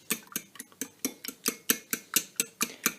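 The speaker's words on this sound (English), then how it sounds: "now I need to get my fork and try and follow along here. Beat and beat and beat." Eggs beaten in a bowl with a fork for a cheese omelette, a close, steady rhythm of about a dozen sharp clinking strokes with no talk.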